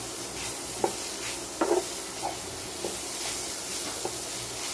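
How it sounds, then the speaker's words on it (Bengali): Potato chechki with radish being stirred in a frying pan, a soft continuous sizzle with a few scattered scrapes of the spoon, quiet and close. "আলু ছিচকি নেড়ে চেড়ে নামিয়ে নিচ্ছি"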